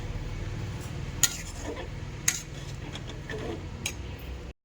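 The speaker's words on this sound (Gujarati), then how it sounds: "અને પ્રોપર આવી રીતે મિક્સ કરવાનું છે. અત્યારે અંદર મેં આદુ મરચીની પેસ્ટ નાખી છે" Spoon stirring ginger-chili paste in a cooking pan: a low sizzling background broken by a few sharp metallic clinks and soft scrapes against the pan, close by, with no talking.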